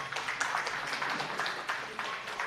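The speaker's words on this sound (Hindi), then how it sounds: "मैं चाहूंगा एक बार जोरदार तालियों से इनका स्वागत करें" Audience at a public event clapping to welcome two chief guests, a union minister and a Rajya Sabha MP, steady moderately loud applause from a crowd at some distance.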